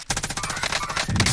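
Rapid automatic gunfire in the Warzone video game, a fast steady burst of sharp shots from an MG82 firing nearby, loud and continuous.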